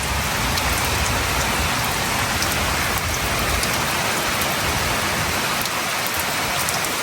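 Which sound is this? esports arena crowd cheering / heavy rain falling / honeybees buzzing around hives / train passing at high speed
heavy rain falling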